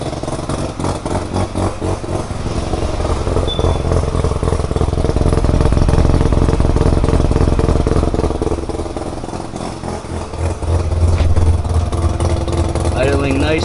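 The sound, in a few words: rotary engine car idling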